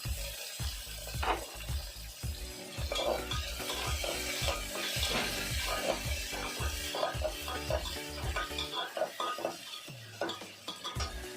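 Onions sizzling in hot oil in a home kitchen pan, a steady frying hiss with frequent stirring scrapes and clinks of a spoon against the pot, close and continuous.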